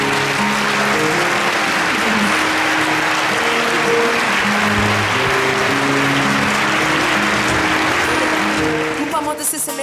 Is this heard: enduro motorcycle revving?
no